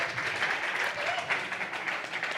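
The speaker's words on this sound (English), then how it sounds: "another round of applause for Ahoya" An audience at a PubTalk company pitch event in Central Oregon breaks into applause, a full, continuous wash of clapping close by that fills the whole moment.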